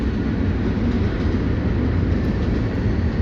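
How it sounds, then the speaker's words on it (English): A fast train rushes past nearby with a loud, steady rumble and rushing roar that holds throughout, with no voices. "Listen to how damn fast that train is moving."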